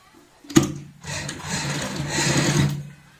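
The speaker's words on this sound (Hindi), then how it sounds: "पूरी पट्टी में सीधी सिलाई ऐसे लगा लेते हैं, इस साइड में भी और इस साइड में भी।" A sewing machine runs straight stitching along a fabric strip for a purse handle: a sharp click as it starts, then a close, steady mechanical whirr for about two seconds before it stops, with no talking.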